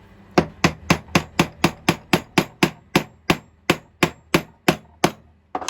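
A hammer drives a small, tight-fitting pin through a wooden hinge with a quick, even series of about seventeen sharp, close, loud taps, each ringing briefly. No one speaks.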